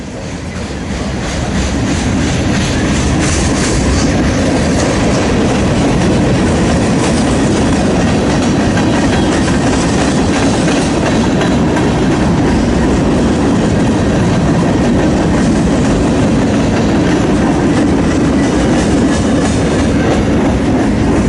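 Freight cars from Montana Rail Link and CN roll past nearby, a loud, sustained rumble with rhythmic clickety-clack of wheels over rail joints and occasional light squeal, building in the first seconds then holding steady.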